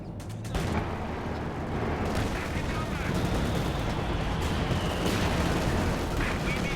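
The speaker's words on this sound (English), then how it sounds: "Here goes IL-2, got shot down by some machine guns" Machine-gun fire in Company of Heroes 2 as an IL-2 is shot down, heard as dense, continuous rattling bursts amid battle din and explosions. A commentator's voice runs underneath.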